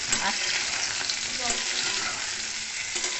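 Food frying in oil in a pan, a steady, close, loud sizzle that runs unbroken throughout with no voices.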